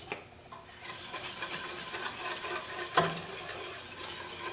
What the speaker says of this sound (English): So just keep stirring constantly and scraping the side so that the sugar doesn't burn on the side.